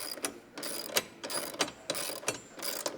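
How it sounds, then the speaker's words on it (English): A ratchet wrench tightening nuts on rack mounts of a 2020-2025 Jeep Gladiator JT, giving repeated close, crisp bursts of clicking about every half second with no talk. "We're going to torque these down to 17 foot-pounds on both the front and the rear."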